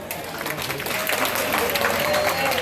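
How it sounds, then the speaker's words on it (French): A gala dinner audience of the Ivorian diaspora in Paris claps in a sustained round of applause, with a voice speaking over it. "Applaudissez pour vous."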